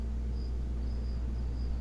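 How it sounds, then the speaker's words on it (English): Crickets kept in a small tank chirp faintly, with brief high trills repeating every half second or so over a quiet, steady room hum. "So you guys, if you're quiet, you literally will hear crickets."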